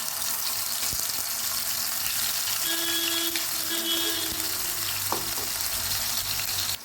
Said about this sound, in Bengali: এবার তেলের মধ্যে আমি দিয়ে দিচ্ছি টমেটো পেস্ট।